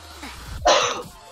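A single sharp human sneeze, a short close burst with a breathy intake just before it.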